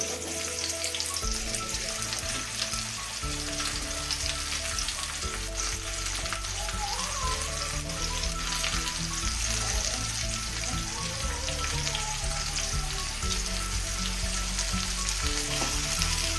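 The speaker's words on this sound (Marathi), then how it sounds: "कांद्याला तांबूस रंग येतपर्यंत भाजायचे आहे आपल्याला" Onions fry steadily in a pan for a spicy mutton curry, giving a loud, dense, continuous sizzle with occasional stirring and no talking.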